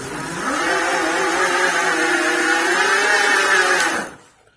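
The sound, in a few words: Aipas M2 Pro e-bike motor at full throttle, pass 5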